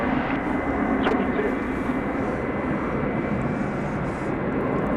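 A Boeing 757 passes close at DFW Airport at night after landing, its engine roar a broad, steady, loud wash that holds throughout, with no talk over it.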